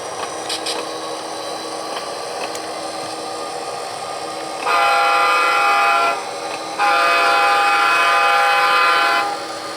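A train horn blasts twice, long sustained honks with a short gap between them, over the steady rumble of a moving train passing under an overpass in Huntington Beach.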